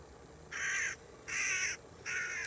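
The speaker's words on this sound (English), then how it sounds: "something scared the crows" Crows caw three times at Bordeaux Harbour, Guernsey, each call a harsh, drawn-out burst about half a second long, spaced evenly and fairly close over quiet background.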